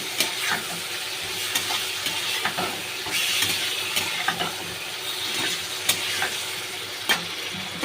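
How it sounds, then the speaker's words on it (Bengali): Potatoes and green chilies frying in hot oil while being stirred, a constant loud sizzle with scraping ratchety clicks of a spatula against the pan, close up and continuous. "এবার আমি আলু, কাঁচা লঙ্কা দিয়ে দেবো, একটু ভালো করে নেড়ে ছেড়ে নেব।"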